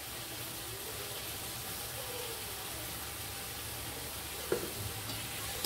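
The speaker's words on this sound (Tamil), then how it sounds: "எல்லாத்தையும் நல்லா மிக்ஸ் பண்ணிடுங்க." Chilli powder, coriander powder and salt being stirred into frying stuffed brinjals for a Chettinad gravy, a steady close sizzle with faint scraping throughout and one brief clink near the end.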